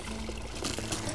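Water pours steadily from the Mārupīte stream outlet at night, a continuous soft gushing and trickling close by with no voices.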